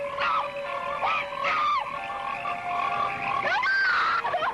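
Frogs croak in a film trailer for a nature-strikes-back horror picture, a dense chorus of loud, overlapping calls with warbling rising and falling tones continuing steadily throughout.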